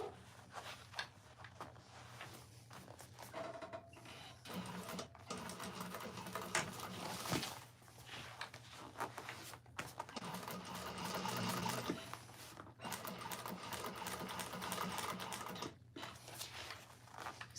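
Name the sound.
sewing machine top stitching a bag lining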